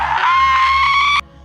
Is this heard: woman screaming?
yes